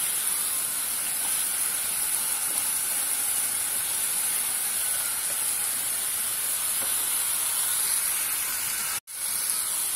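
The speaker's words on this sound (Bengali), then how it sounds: "চাউলটা কিছুক্ষণ ভেজে নিব" Rice sizzles and hisses as it fries in a pan with carrots, salt, ginger and garlic for carrot polao, a steady broadband hiss over ten seconds with a brief dropout near the end.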